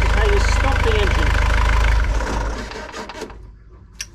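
A Volvo Penta D2-75 marine diesel engine idles loudly with a steady low throb, then winds down and falls silent after being shut off by hand with its stop lever, leaving a faint tail of quiet sounds.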